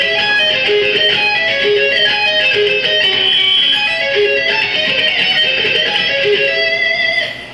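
Electric guitar slowly picks diminished seventh and minor arpeggios, steady overdriven notes ringing in even succession and sustaining continuously without talk.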